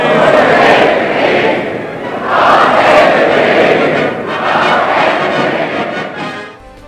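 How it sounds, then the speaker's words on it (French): A large crowd at Queen Elizabeth II's coronation cheers three times, each a loud swelling roar of voices that rises and fades, with the third dying away at the end. "La foule s'exclame par 3 fois"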